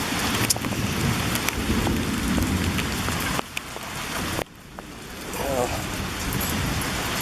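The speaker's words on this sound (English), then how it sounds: "It's raining out" Steady rain falls outdoors, a dense continuous hiss of drops spattering on surfaces that briefly dips and then swells again, with faint background sounds mixed in.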